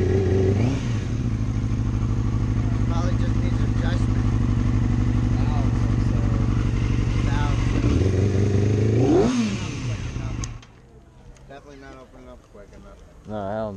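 Motorcycle with an aftermarket exhaust idling roughly and unevenly, loud and close for about ten seconds with a revving swell near the end, then cutting out to quieter background with people talking.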